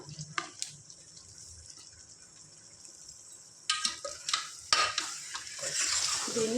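Chili powder being stirred into chicken curry with tomato in a pot, quiet scraping and stirring with faint clinks at first, then louder clattering of a spoon against the metal pot and a soft sizzle, close by.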